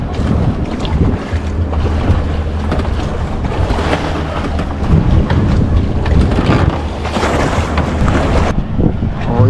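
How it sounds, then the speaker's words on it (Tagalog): A small boat engine runs steadily, a loud continuous rumble with heavy wind buffeting and water noise around it, with no pauses. "Makina natin maliit."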